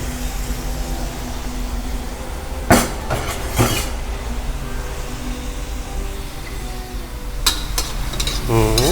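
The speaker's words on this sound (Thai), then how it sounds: "ทีนี้ก็ผัดเนื้อของเราให้สุกกันนะครับ" Minced beef with stink beans sizzles steadily in a pan for a Thai basil stir-fry, with a few sharp scraping strokes of stirring cutting through the constant hiss.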